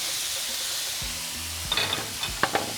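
Ground beef with chorizo frying in a pan: a steady sizzle underneath, with a few scrapes and clatters of stirring near the end.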